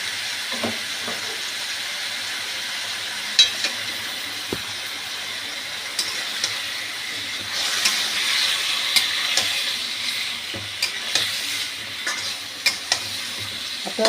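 Tomato chicken frying in a pan, a constant close sizzle with repeated scraping stirs and occasional spoon taps against the pan, growing a bit louder and steamier midway, no talk.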